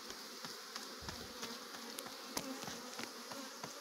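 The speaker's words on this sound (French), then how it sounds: "c'est normal qu'il y ait un peu d'abeilles qui tournent autour de nous, hein, vu qu'on les dérange" Honeybees hum and buzz around an open beehive that has been disturbed during an inspection, a steady, faint swarm drone with individual bees passing close by and no talking.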